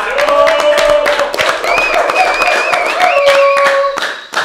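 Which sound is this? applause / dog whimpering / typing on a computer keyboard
applause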